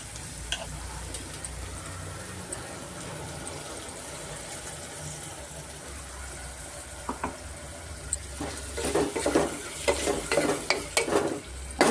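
Mushrooms frying in oil for green mushroom pulao as ground green masala is added, with a low steady sizzle under a background hum, then louder stirring scrapes and clatters near the end.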